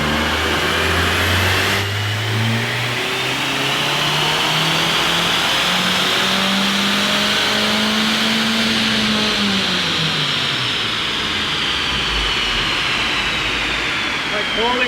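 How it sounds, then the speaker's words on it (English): A VW Jetta engine runs on a dyno without nitrous, revving steadily upward in one long pull and then dropping off, loud and continuous throughout. "So we're gonna do another run without nitrous to see where we land."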